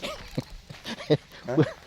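Dogs barking by a fence at the edge of rural land, a few short, sharp barks and yips spaced irregularly at close range, with voices mixed in.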